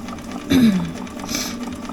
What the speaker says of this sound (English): I'm just going to stitch, and I'm going to get this little thing done